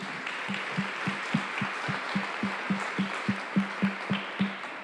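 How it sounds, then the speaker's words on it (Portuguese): Steady rhythmic clapping from a crowd, even and sustained for several seconds with soft individual claps at a regular beat. "Vamos aplaudir o Senhor Jesus, irmãos?"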